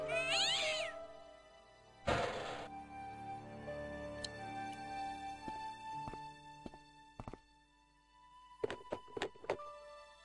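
A cat meowing in the Broken Sword: The Shadow of the Templars video game, a few drawn-out meows over ambient game music, followed by soft clicks and thuds, clear and close with no talk.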